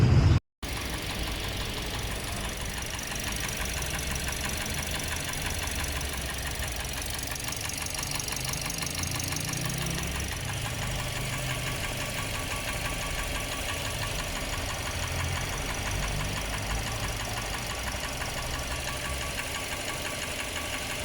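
A Toyota Vios engine runs steadily up close with a persistent rapid metallic knocking that continues throughout, loud and unbroken after a brief dropout at the start.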